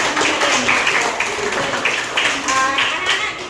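A classroom applauds children, with dense, continuous clapping throughout under some chatter and a speaking voice.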